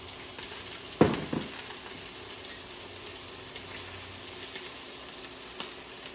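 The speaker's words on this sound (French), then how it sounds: "Là, ben, on laisse ça griller." Shrimp cooking in a pan with a drizzle of olive oil for miso shrimp, a sharp burst of sizzle at the start settling into a steady close crackle with occasional pops, no talking.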